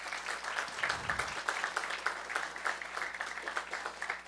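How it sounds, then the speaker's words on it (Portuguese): Audience applause at a national leadership workshop meeting in Brazil, a steady patter of many hands clapping, moderately quiet and somewhat distant, with a low hum underneath. "Uma salva de palmas."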